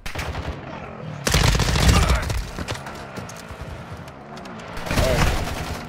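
Gunfire in Call of Duty DMZ, repeated bursts of rapid automatic shots, loud and close, with quieter scattered shots between the heavy volleys amid battlefield noise.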